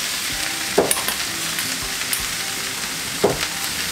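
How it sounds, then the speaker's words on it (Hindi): Rice is tipped into a pan of frying baby corn and sweet corn, and a steady hiss of sizzling oil runs throughout, broken by two sharp scraping stirs of a spoon against the pan. "और अभी इसमें मैं राइस डालूंगी।"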